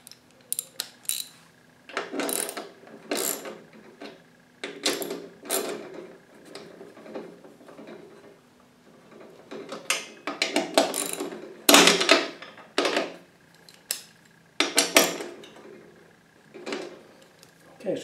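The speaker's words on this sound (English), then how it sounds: "And now we'll snug these bolts down." A ratchet tightens the mounting bolts of a Chamberlain Wi-Fi garage door opener in quick bursts of close, metallic clicking, with pauses between the strokes.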